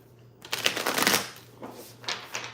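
Mermaid Tarot cards shuffled by hand, a run of crisp riffling swishes that swell and fade in several short bursts over a faint steady hum, with no talking.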